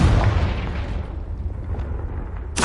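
A single Confringo blasting-spell explosion in Hogwarts Legacy bursts loudly at the start, then fades into a long rumbling decay, with a faint crackle at the very end.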